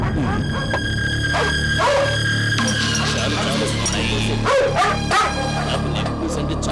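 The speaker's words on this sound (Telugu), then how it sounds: "ఏంట్రా కుక్కలు అరుస్తున్నాయి?" Dogs bark at night in a Telugu film scene, a few sharp barks and yelps scattered over a steady background hum, with people talking at times.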